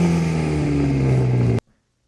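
Car exhaust under revving, a loud, close, droning engine note that holds steady for about a second and a half and then cuts off abruptly into silence.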